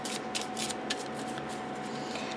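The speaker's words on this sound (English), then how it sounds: "So let's take a good shuffle here." A deck of pocket oracle cards shuffled by hand, a continuous close papery rustle with quick flicks and slides, moderately loud.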